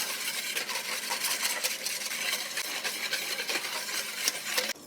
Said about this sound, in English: Now I'm gonna add my cocoa powder. Vanilla. I'm gonna whisk this until smooth.